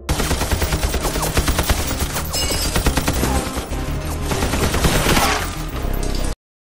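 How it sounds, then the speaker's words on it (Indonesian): Film-scene gunfire, a dense sustained burst of rapid shots and crashing impacts over a loud soundtrack, continuous for several seconds before cutting off. "tiba-tiba saja ada yang menembak secara membabi buta sehingga menewaskan Wolfgang beserta seluruh prajurit Nazi"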